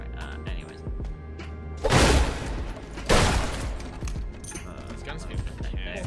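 Video game gunfire with two loud, heavy bursts about a second apart, surrounded by lighter clicks and thumps, while a person talks before and after.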